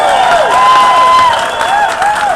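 A large crowd at a Patients First health-care rally applauds and cheers, a loud, steady wash of clapping and shouting close by, with a whistle-like tone sliding over it.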